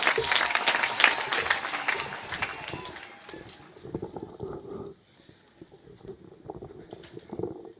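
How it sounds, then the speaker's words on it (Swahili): Crowd applause at a burial ceremony welcoming Honourable Ndindi Nyoro, loud and dense at first, then thinning and fading after about four seconds into scattered claps and murmuring voices. "useme na makofi mazuri ya Mheshimiwa Dede"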